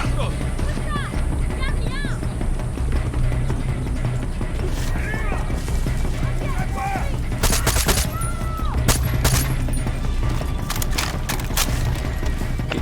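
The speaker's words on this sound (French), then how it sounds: "Quelqu'un a encore balancé une grenade." Far Cry 6 gameplay with a grenade blast and bursts of gunfire, the explosions and shots popping over a busy, steady background of game ambience, with a voice heard at times.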